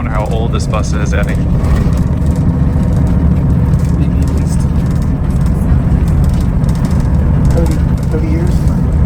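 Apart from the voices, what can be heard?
old historic bus driving through Kursk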